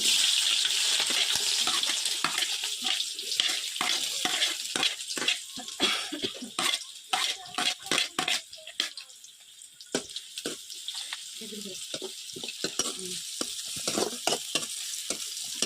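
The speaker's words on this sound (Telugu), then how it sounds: "ముందుగా ఆయిల్ పోసి హీట్ అయిన తర్వాత ఆవాలు అయితే వేస్తున్నానండి" Mustard seeds hit hot oil in a village-style kitchen pan and sizzle and pop, a crackling hiss broken by repeated sharp spatters and spoon scrapes that stay close and fairly loud throughout.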